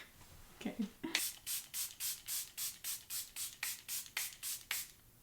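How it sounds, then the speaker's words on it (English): Charlotte Tilbury Airbrush Flawless Setting Spray misted in a steady run of about thirteen quick, evenly spaced pump sprays, each a close, crisp hiss, with a faint brief sound just before the first spray. "Now we're going to do a nice coating of our setting spray."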